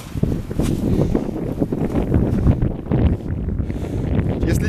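Blizzard wind blows across a snowy village at the forest edge in Nikolaevsk-on-Amur, a loud, steady roar buffeting the microphone with gusty rumbles and no talking.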